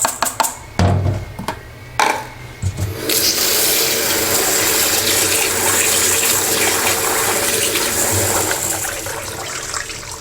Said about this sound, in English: Clean the rice by rinsing it twice with plenty of water.